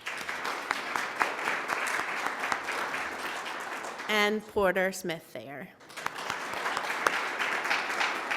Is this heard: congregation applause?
yes